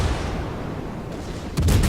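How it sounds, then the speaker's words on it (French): Gunfire from the German cruiser Hindenburg in the naval game World of Warships: a steady low rumble of battle noise, then a sharp, loud burst of cannon blasts near the end. "Et utilise à fond ses canons."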